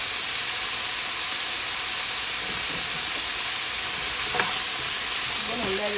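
Chard leaves sizzle steadily in a hot pan while being stir-fried, a dense continuous frying hiss with a few faint clinks near the end, no talking.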